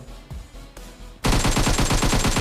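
M4 rifle spray in a first-person shooter video game: after a quiet second of faint ambience, a loud, sustained burst of rapid automatic fire rattles on unbroken to the end, close and dominant.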